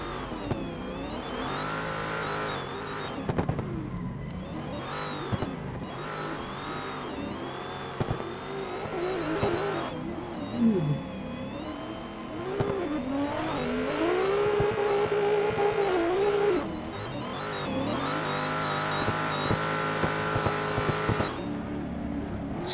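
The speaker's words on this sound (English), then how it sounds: "These two cars have really good sounds, I think." Drift cars race in a video game, including an S14 with a supercharger, giving sustained loud engine revving and shifting whines with occasional tire squeal throughout and no talk.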